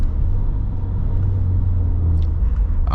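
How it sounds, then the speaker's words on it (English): Steady deep engine rumble from a 2022 Subaru WRX GT with performance transmission while driving, a loud continuous low drone heard from inside the cabin with no talking. "Actually, I like the grumble of this engine though."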